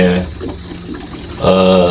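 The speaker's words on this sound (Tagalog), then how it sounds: "Lagyan natin ng tubig." Water pouring into the tank of a faulty air cooler that will not cool, a steady splashing fill heard close by that stops briefly midway and then resumes loudly, with someone speaking over it.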